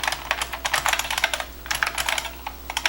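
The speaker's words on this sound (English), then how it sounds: "What keyboard are you using? I'm using an IBM Model M, I think. It's an OG one from 1985." Rapid keystrokes on a 1985 IBM Model M mechanical keyboard during a game-coding session, a steady run of sharp, loud clicking key presses with brief pauses and no talking.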